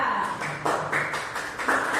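A small classroom group claps for Mbak Aura, a brief patter of hand claps in uneven bursts, fairly close, with a faint voice underneath.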